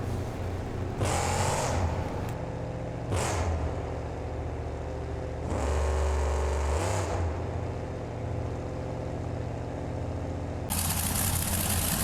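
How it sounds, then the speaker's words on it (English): A big Ford monster truck engine in the game BeamNG Drive idles with a deep, steady rumble, broken by several loud revving surges that rise and fall, with no talking over it. "Next truck out is a big, powerful Ford from the 2 Extreme camp."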